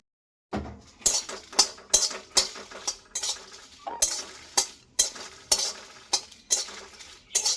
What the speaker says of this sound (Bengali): এবার শুকনো কড়াইয়ে দিয়ে দিচ্ছি শুকনো লঙ্কা কয়েকটা, এটাও ভেজে নেব।